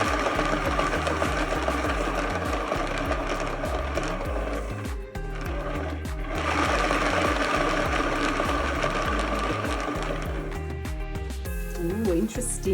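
A spinner turns a freshly painted canvas, producing a loud, steady mechanical whirring and rapid rhythmic clatter that runs almost continuously.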